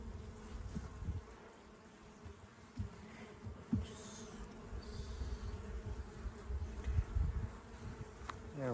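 Honeybees buzz steadily around an open hive during an inspection after a walk-away split, a close, continuous hum with a few louder passes and soft handling bumps.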